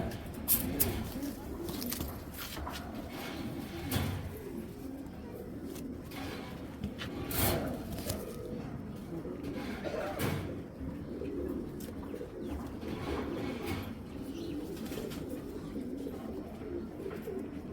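Khaki pigeons at a bird market in Rajshahi coo steadily in soft, repeated low calls, close by and layered over one another, with faint background talk and occasional rustling.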